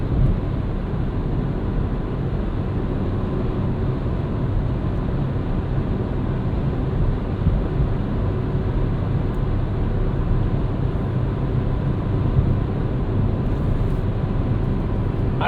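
Inside a 2012 Ford Fiesta SE hatchback with a manual gearbox at highway speed, a steady broadband road and wind roar fills the cabin, constant and fairly loud with no talking.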